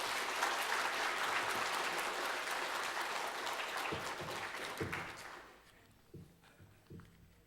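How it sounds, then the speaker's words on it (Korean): A church congregation claps in loud, sustained applause to welcome a pastor before a worship service, the clapping thinning out and fading to a few scattered claps near the end. "목사님 모실 때 큰 박수로 환영하고 또 축복하겠습니다"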